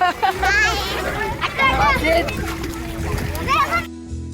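Children splash into a pool at a farmhouse picnic, bursts of splashing water mixed with excited kids' shouting and chatter nearby throughout.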